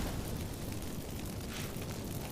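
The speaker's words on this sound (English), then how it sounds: "Get ready for some magic fireworks." Magic fireworks set off by activated incense in The Witcher 3, a steady, dense crackling roar with no clear breaks, like a sustained burst of sparks and flame.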